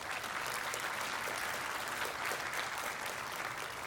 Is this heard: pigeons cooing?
no